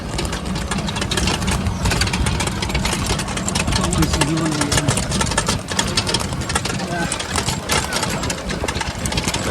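A car engine rumbling steadily as the vehicle drives slowly into a factory compound in a village, a close and loud drone with a person talking over it.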